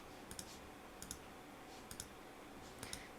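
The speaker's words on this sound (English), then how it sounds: "oops, I'm clicking too many things" Quick pairs of light computer mouse clicks recur about every second over a steady low hum, faint and close, during image editing in Photoshop.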